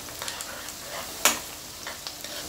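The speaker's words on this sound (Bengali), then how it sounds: "এখন আমি পেঁয়াজের সাথে এগুলো একটু ভালো করে নেড়েচেড়ে দিচ্ছি।" Onions with three or four cinnamon sticks and three or four cardamom pods are stirred in a pan for a potato chicken curry, a soft sizzle with light scraping and one sharp utensil clack partway through.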